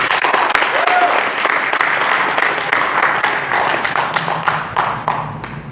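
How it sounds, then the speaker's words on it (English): An audience at an Edo Language Day event breaks into sustained applause, loud and dense clapping that continues throughout, gradually thinning toward the end. "let's give her a round of applause"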